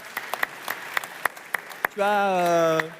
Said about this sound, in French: je vous demande d'applaudir Claire Pétro.